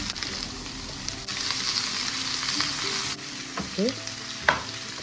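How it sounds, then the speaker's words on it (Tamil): Spices such as cinnamon, cardamom and cloves sizzle in sunflower oil in a pan as they are stirred, a steady close frying hiss with a few scraping clinks, and a brief spoken word. "இந்த சன்ஃப்ளவர் ஆயிலையும் வந்து வதக்குவோம்"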